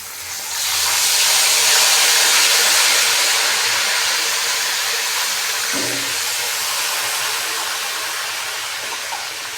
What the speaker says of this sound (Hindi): थोड़ा पानी का तड़का लगाएंगे।